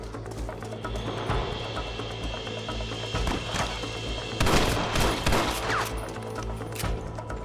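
Scattered gunshots in a Red Dead Redemption shootout crack over steady game ambience, with a heavier cluster of shots near the middle and sporadic distant reports around it.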